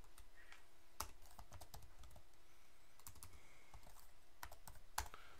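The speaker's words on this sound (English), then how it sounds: "click start, command prompt, and then type ipconfig." Someone types a command at a Windows command prompt on a computer keyboard, giving close, quiet keystrokes in an uneven rhythm with a few louder thumps, and no voices.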